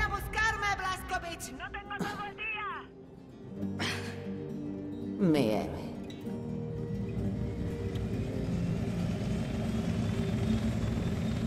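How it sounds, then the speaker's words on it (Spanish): A helicopter in the shooter game Wolfenstein: The New Order, a steady rotor and engine drone that builds and holds through the second half, after several short tonal game sounds and voice bursts at the start. "Lleve a Caroline al asiento de copiloto del último helicóptero"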